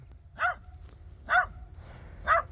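Jack Russell terrier barks three times at an even pace, each bark sharp and close, with quiet room background between them.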